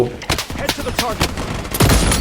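Gunfire in a shooter game, with the M700 sniper rifle in use, cracks out as a string of sharp, loud bursts roughly every quarter second, ending in a heavier blast, while a voice talks underneath.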